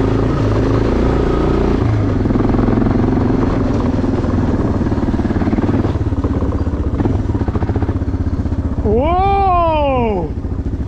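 A motorcycle rides a mountain road in the hills near Almaty, its engine droning loud and close throughout, with a rising whistle-like sweep near the end.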